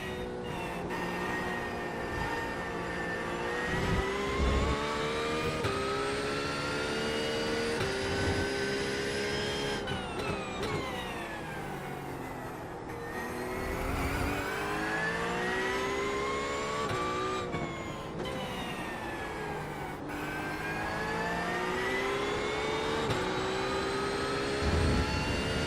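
A Porsche race car engine in the iRacing sim roars loudly and continuously, its pitch climbing and dropping sharply with each upshift and lift off the throttle, with no voices.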